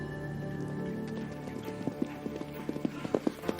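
Racehorses at a Breeders' Cup race gallop past, their hooves drumming in a quickening clip-clop that grows sharper and closer over steady crowd and track noise.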